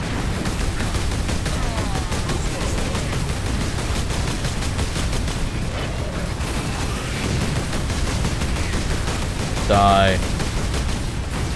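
Dense, continuous rapid gunfire from Warhammer 40,000: Space Marine, heavy automatic bursts and booms filling the whole stretch, with a brief spoken shout in the game partway through.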